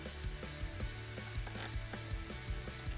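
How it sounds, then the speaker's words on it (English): Quad Lock damping unit sitting onto its ratchet, a rapid run of small sharp mechanical clicks at close range, evenly repeated over a few seconds without any talking. "So we just offer that up and sit it on the ratchet"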